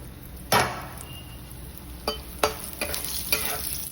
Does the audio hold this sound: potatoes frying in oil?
yes